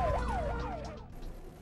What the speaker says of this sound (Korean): 사이렌이 요란하게 울고 있지만 앞 차량은 제갈길을 고집합니다